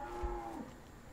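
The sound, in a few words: Brahman cattle mooing in Farming Simulator 17 video game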